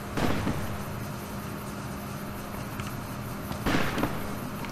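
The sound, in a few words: gunfire in the video game Fallout New Vegas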